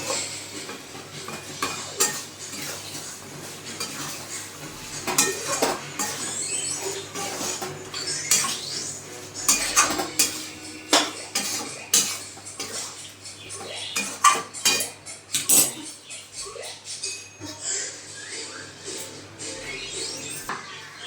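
Mutton being sautéed in a pot, with repeated clanks and scrapes of a metal spoon against the pan in an irregular rhythm, close and fairly loud, with little sizzle beneath.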